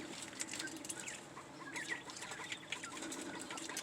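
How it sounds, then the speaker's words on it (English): Chickens, a rooster and two hens, cluck softly at a distance amid faint rustling and a few wing flaps, with no talking. "We got Big Red and his two hens."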